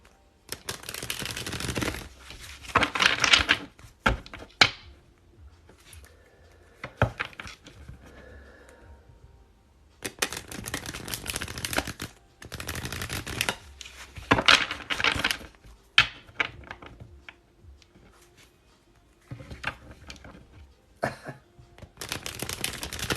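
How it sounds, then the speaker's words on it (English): Decks of tarot cards are shuffled by hand in several loud bursts of riffling and flapping, separated by quiet pauses, close to the microphone. "Now I gotta shuffle up my damn cards"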